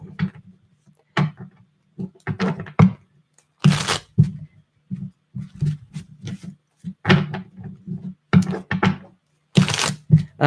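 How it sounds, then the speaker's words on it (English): A tarot card deck being shuffled by hand during a reading, giving irregular bursts of crisp riffling and snapping card sounds with short pauses between, close and fairly loud, with no talking. "Trying to get some good shuffles going here, people."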